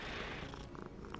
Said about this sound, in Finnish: Kissa kehrää.